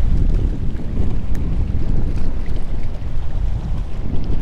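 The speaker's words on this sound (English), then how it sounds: "This wind is just brutal." Strong, gusty wind buffets the microphone along a seawall by the ocean during fishing, a loud continuous roar with rumbling surges and no talk.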